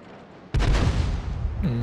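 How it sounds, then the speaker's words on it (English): A tank in World of Tanks fires a high-explosive round: a sudden loud boom after a quiet half-second, followed by a sustained rumbling roar and a short rising mechanical whine near the end. "we actually have a high explosive round in the spout now, so we'll throw this one away, hopefully hitting one of these guys"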